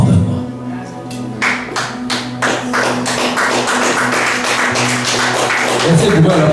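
An audience claps, starting with a few scattered taps and building into sustained applause from a crowd, with talk mixed in.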